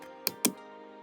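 Two sharp, quiet clicks as password keys are pressed on a computer keyboard, close up, with nothing else around them.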